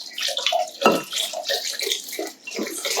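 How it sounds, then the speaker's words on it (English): Water is poured into oil in a container to make a homemade summer bronzer, a steady close splashing and gurgling pour that lasts about three seconds with no talk over it. "We're now going to dump our water into our oil."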